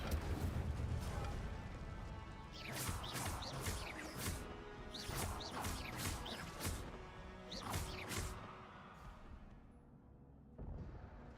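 Repeated Incendio fire spells cast in Hogwarts Legacy, a series of sharp crackling bursts and smashing hits over a steady low background, fairly faint and spaced a second or two apart.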